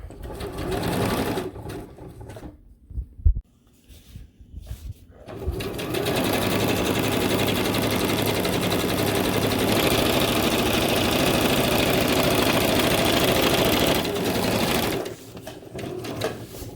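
A sewing machine stitches underquilt baffles, starting with a few short bursts and pauses, then running in one long steady whirring, rattling stretch before slowing to a stop.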